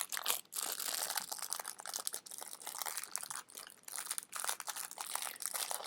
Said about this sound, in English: This is the sound of opening a fortune cookie.